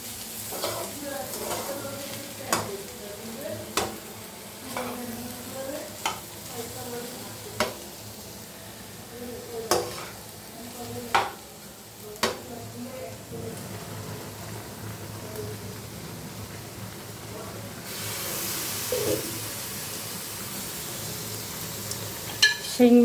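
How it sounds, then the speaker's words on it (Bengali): Potatoes fry in a pan with a soft, steady sizzle, broken by sharp scraping stirs that come every second or two, then the sizzle swells louder near the end. "রান্না করতেছি আলু ভাজা,"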